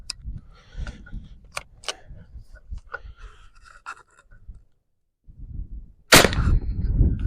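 An Umarex Air Javelin air-powered arrow gun fires at a target with a single sharp, loud burst of air near the end, after several seconds of faint clicks and handling noises.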